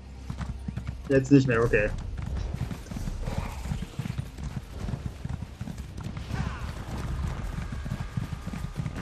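A horse's hooves clip-clop steadily through The Elder Scrolls Online, a brisk, even rhythm of close hoofbeats with a short whinny near the start, while players talk over the gallop.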